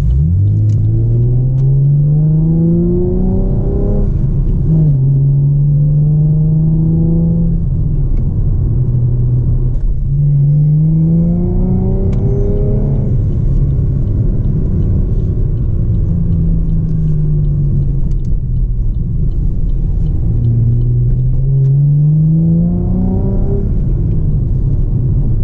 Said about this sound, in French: tu passes ta voiture au rouleau.